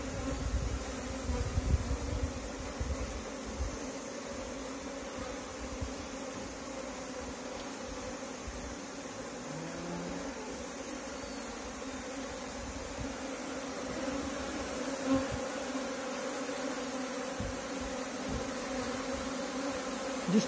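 Asian honey bees (Apis cerana) swarm into a hive box, a steady, dense buzzing hum that carries on throughout, close and continuous with no voices.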